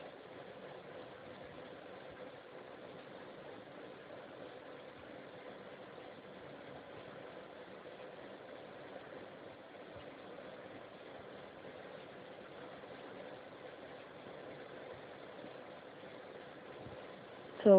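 A sewing machine runs in a long, unbroken hum while stitching a kurta collar, joining it to the inside collar piece; steady and close throughout, with a brief louder bump at the very end.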